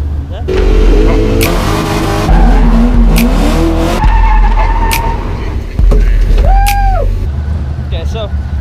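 An LS1-powered drift race car skids with screeching tires and a roaring engine that rises and falls continuously over several seconds, loud and close.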